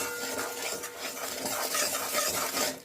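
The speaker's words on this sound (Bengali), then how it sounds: "তেলের মধ্যে এইভাবে যদি হলুদ আর লঙ্কা গুঁড়োটা দিয়ে ভেজে নেওয়া যায়" Turmeric and chili powder fry in hot oil while a spoon stirs the pan, a busy close sizzle with constant scraping and clinks.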